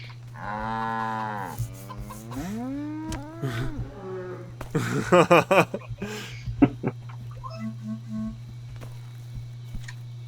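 Big cow mooing in the video game CHKN, several long drawn-out lowing calls of varying pitch over a steady low hum, with a few short clicks and game effects near the end.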